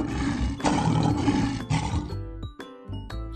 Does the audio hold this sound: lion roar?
yes